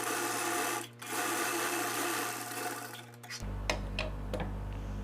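A sewing machine runs steadily, stitching the edges of blouse fabric with a continuous mechanical whir, then shifts to a lower hum with a few clicks near the end.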